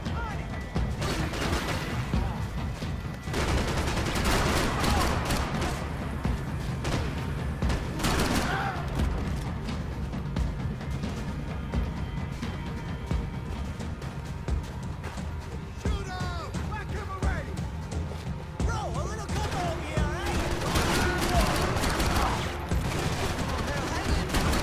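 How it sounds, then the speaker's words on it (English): Rapid bursts of gunfire from the video game Max Payne 3, repeated shots and volleys crackling over a busy, loud backdrop throughout. "Gunfire over Hoboken."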